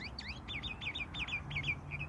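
Birdsong rings out in a field, a quick series of bright, repeated chirping phrases close by over a low background hum, with no voices.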